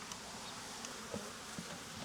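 Honey bees buzz around a hive in a Jacksonville, Florida outyard, a faint, steady droning hum with a few individual bees passing closer, and no voices.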